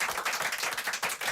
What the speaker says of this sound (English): applaudissements dans ce studio avec des lecteurs, auditeurs de France Inter